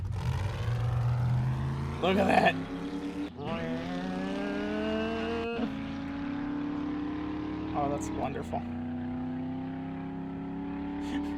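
A truck in the 7 Days to Die video game drives along, its engine a steady droning hum that rises in pitch as it speeds up, with people talking excitedly over it.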